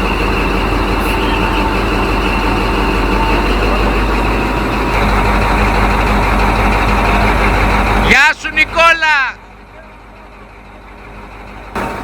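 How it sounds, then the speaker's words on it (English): A CAT 777 dump truck rumbles loud and close as it climbs onto a transport trailer, its engine droning steadily before cutting to a few short clanks and then a quieter hum. "ready to receive the dumper as it climbs onto the trailer"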